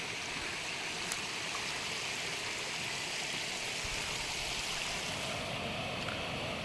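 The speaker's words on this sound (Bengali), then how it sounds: "রাস্তা দিয়েই জল নেমে চলেছে।" Water runs steadily down a hillside road near Kalimpong in the hills, a constant broadband rushing flow that stays close and even throughout, with no voices.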